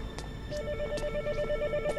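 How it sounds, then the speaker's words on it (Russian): An in-game telephone rings in Hitman Absolution, a repeating electronic trill in short bursts over a faint background hum, with no talk. "Телефон звонит."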